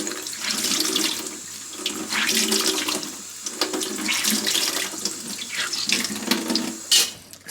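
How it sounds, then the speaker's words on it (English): Water splashes and squelches under a running tap, with repeated rhythmic squeezing of a wet makeup sponge over a steady flow. "all you need to do is just squeeze the water out of it a couple of times"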